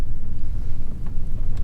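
A Toyota Tundra pickup truck drives along with a steady low engine and road rumble, mixed with wind noise against the microphone, loud and close with no talking.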